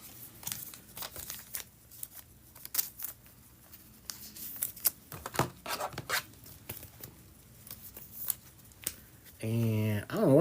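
A deck of playing cards is shuffled with repeated riffling and soft slaps, then squared up, close by, ending with a brief tonal burst.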